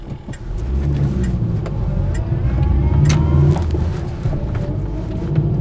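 A 1975 Austin Allegro 1100 Deluxe is driven on a sunny day in Tywyn, North Wales. Its engine gives a steady mid-pitched drone that swells slightly midway and continues without talk.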